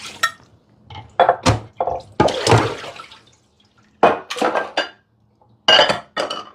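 Dishes being pulled out of a kitchen sink during pre-Easter kitchen prep, heard as several separate bursts of clattering and clinking, with rough knocks of dishware and a wet scrape between short pauses.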